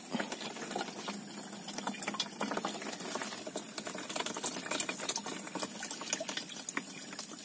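Water trickles and splashes into a container being filled while fetching water out in the fields, a steady close gurgling stream with rapid irregular patters and no talk.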